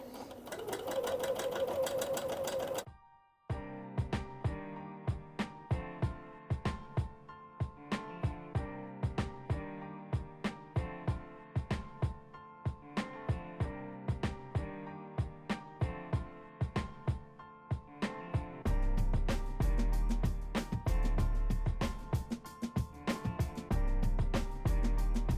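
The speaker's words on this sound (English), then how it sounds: "So you want to take your time with this because you are sewing on a curve." A sewing machine stitches slowly around a curve, running in a long series of close, steady mechanical bursts with brief pauses, loud and near, with no talking.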